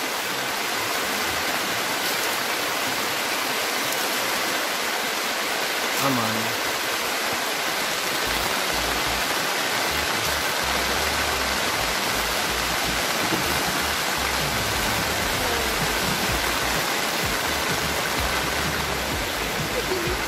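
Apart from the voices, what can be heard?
rain falling at a campsite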